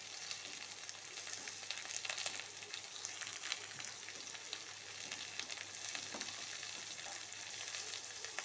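Chopped tomatoes with salt frying in hot oil in a pan, a continuous dense sizzle holding steady throughout with no voices.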